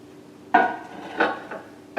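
A frozen meal container is set into a microwave: a few close hard clacks and bumps of plastic against the microwave interior, spaced about half a second apart, with no talk.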